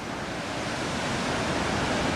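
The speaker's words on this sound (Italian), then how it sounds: "Bellissime cascate, grandissimi." Hønefoss waterfall in Norway gives a constant, dense rush of falling water that stays steady and unbroken throughout, with no voices over it.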